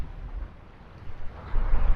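Wind rushing past the microphone on a sailboat with low rumbling water at sea, gusts near 20 knots, swelling louder toward the end as gusts and waves build.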